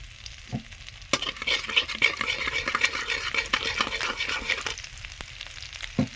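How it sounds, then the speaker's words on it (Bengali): Whole cumin seeds sputter in hot mustard oil in a Bengali kitchen, making a busy, close crackle of tiny pops with a few sharper spoon or pan clicks, continuous and unaccompanied by talk. "এবারে কিছুটা সরষের তেল দিয়ে দেবো। ওর মধ্যে গোটা জিরে ফোড়নে দিয়ে দেবো।"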